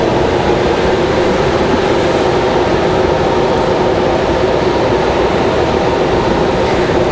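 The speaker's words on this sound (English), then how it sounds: "So this is American Airlines 2462 coming in from Los Angeles. 737-800." An American Airlines Boeing 737-800 arrives from Los Angeles at Raleigh-Durham airport with a loud, unbroken jet rumble and hiss that holds steady the whole time, with no speech.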